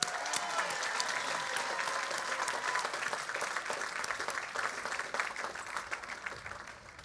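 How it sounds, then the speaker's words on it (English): A graduation ceremony audience at Berkeley City College in 2013 applauds, with dense, steady clapping from a large crowd that holds at an even level throughout and only eases slightly at the very end. "we give ourselves a round of applause"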